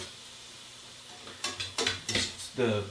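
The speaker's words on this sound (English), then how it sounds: "Kind of mix it around so it gets all incorporated with the onions." Garlic and onions sizzle in a pan under a soft constant hiss while a utensil stirs and scrapes, giving a cluster of sharp clattering bursts in the second half, close by.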